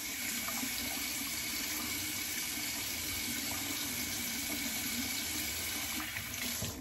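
Warm water runs steadily from a bathroom tap, a constant close hiss with no break across the stretch.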